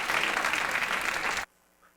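Applause at a Rotary International district conference fills the hall loudly and steadily, then cuts off abruptly after about a second and a half, leaving near silence.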